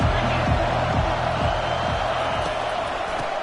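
Football stadium crowd roaring during a Nebraska game, a dense, steady wall of noise with rhythmic low thumps like chanting or stomping running through it at a constant loud level.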